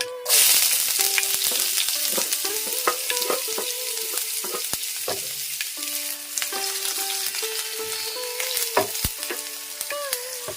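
Red shallots frying in hot oil with mustard seeds for a Kerala-style chutney, a bright continuous sizzle with sharp crackles and pops, plus scraping and clinks of a spoon stirring the pan, close and loud.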